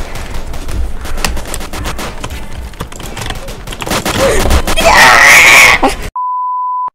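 A burst of gunfire comes from a gun in the Roblox game Framed. Rapid, dense shots build to a loud peak near the end amid game noises, and the clip closes with a steady electronic beep.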